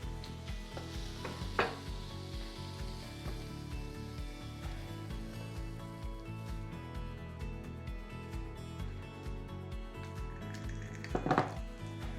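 Shredded cabbage and bacon frying in a pan, a steady soft sizzle with occasional stirring scrapes and a couple of sharper utensil clinks against the pan.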